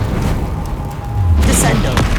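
In Hogwarts Legacy, a Bombarda explosion spell lands with a deep, loud boom and a bright burst during frantic spellcasting, while a voice shouts over it.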